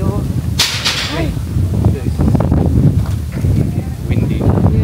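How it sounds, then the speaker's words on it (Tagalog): Strong wind gusting during a typhoon, buffeting the microphone in rough bursts with a sharp whipping gust near the start, while people talk over it. "Windy. Yun lang, mahangin."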